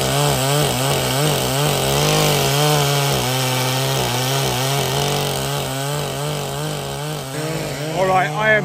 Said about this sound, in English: Senor Agostinho has got his chainsaw out.